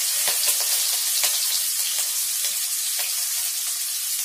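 Chopped onion and ginger frying in a pan for a banana-flower and potato curry, a dense continuous sizzle with light scattered clicks of stirring, close and steady, no talking.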